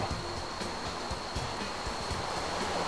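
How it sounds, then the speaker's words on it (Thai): Water flows in a cave in the video game Minecraft with a continuous rushing wash and faint repeated clicks or steps, steady throughout and moderately loud. "เจอน้ำไหลแล้วฮะ น้ำไหลตรงนี้"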